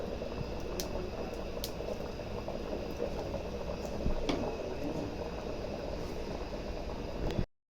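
Mustard and fenugreek seeds fry in hot oil with a soft, continuous sizzle and scattered small pops and crackles, heard close and quiet with no talking.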